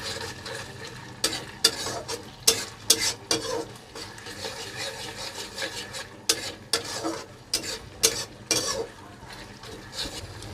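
A tomato and red and green chili sauce mixture for a chicken kabab filling being stirred in a pan, giving repeated close rasping scrapes in uneven bursts over a low background hiss.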